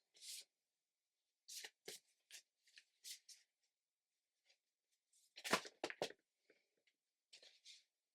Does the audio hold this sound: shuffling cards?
yes